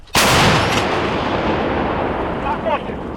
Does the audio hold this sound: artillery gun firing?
yes